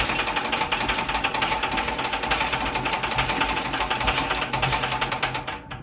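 A honey extractor spins with one frame much heavier than the others, giving a steady, loud mechanical whir with a fast rattling wobble throughout before it cuts off at the end.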